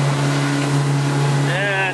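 An outboard engine drives a fishing boat over choppy water on Suisun Bay during a sturgeon trip, giving a loud, close, steady drone with rushing wind and water noise, and a voice surfaces briefly near the end.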